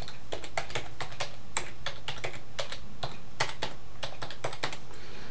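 Fingers tap out a password on a computer keyboard to unlock the screen, a steady run of crisp, close keystrokes with brief pauses, over a low background hum and with no talking.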